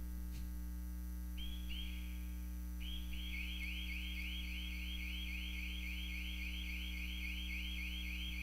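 A church alarm sounds inside, first two short electronic chirps, then a fast, continuous run of repeated warbling beeps over a constant low electrical hum.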